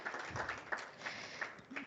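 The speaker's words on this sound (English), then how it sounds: "another round of applause for the amazing poet Sitawa" Audience applause for a poet at an impact-investing conference: a faint, distant patter of scattered clapping lasting a couple of seconds.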